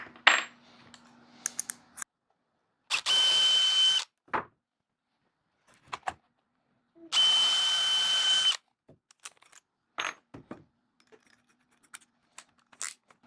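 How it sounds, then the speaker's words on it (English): A 3/4 inch Forstner bit drilling a recessed pocket in wood, two short bursts of power drill whine separated by pauses, with scattered clicks and small metallic clatters between them. "I'm going to use a 3/4 inch Forstner bit to make a nice little pocket for these to go down in"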